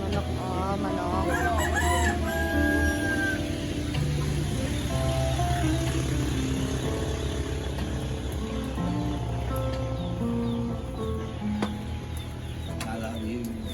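Chickens in rural Tanay, Rizal, crow and cluck close by in a busy, continuous chorus, with overlapping long crows and clucks, some faint background voices, and the noise level staying high throughout.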